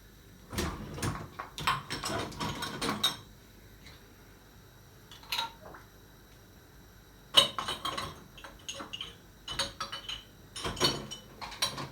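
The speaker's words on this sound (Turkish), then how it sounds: "Bulaşıkları da makineye koyuyoruz." Dishes and cutlery clatter in irregular bursts, plates and glasses clinking as they are loaded into dishwasher racks, with quiet pauses between.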